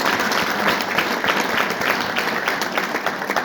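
A church congregation claps together in sustained, dense applause throughout, loud and close, with a faint murmur of voices underneath.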